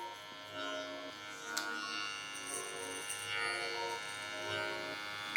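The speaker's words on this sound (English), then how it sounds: "Now I come in with clipper open, full open, just to connect this line to the fade." Electric hair clipper with its blade lever fully open, buzzing faintly and steadily as it blends a fade during a haircut, with no speech over the thin, even hum.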